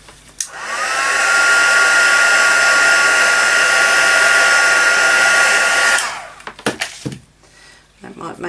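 A heat tool blows hot air onto masking tape in a craft project, a loud steady whoosh lasting several seconds, then switching off, followed by light handling clicks.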